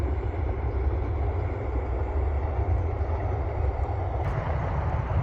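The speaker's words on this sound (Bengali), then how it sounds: "এই 5টা ট্রেন ঢুকছে" A train pulls in beside rice fields with a steady low rumble, constant and moderately close, with no voices.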